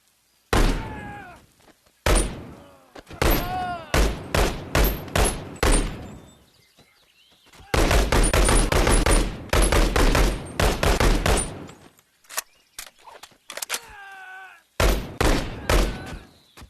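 Shotgun blasts in the BoneLab VR game: sharp, loud, close reports in irregular clusters with short silences between, some rapid runs of shots and metallic clacks.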